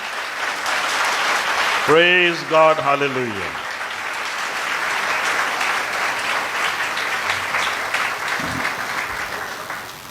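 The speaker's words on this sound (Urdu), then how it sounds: "زوردار تالیاں بجائیں" A church congregation applauds in a long, steady roar of clapping. A voice calls out briefly over it near the start.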